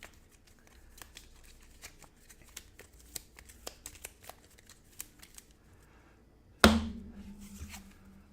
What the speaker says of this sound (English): Put these 2 in and shuffle.